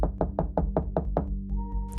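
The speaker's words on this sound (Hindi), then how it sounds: "उन्होंने कपल्स के फ्लैट पे जाके नॉक किया।" Seven sharp knocks on a flat's door come in an even, quick rhythm, close and distinct, followed by a faint tonal hum as the knocking stops.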